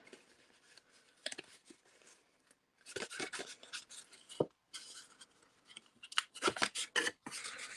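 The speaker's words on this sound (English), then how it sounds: "we'll go ahead and fold on all of these lines." Paper card stock is folded and creased along scored lines for a stamping craft project, giving soft crisp rubs and sharp creasing scrapes in short bursts separated by pauses, close and fairly quiet.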